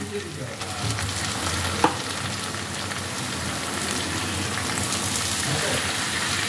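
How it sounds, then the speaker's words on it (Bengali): Marinated chicken pieces dropped into frying spice paste for lemon-chilli gandhoraj chicken, giving a steady, close, rain-like sizzle that holds throughout, with a brief clatter near the start. "এবার আমি এর মধ্যে দিয়ে দিচ্ছি ম্যারিনেট করে রাখা মাংসটা"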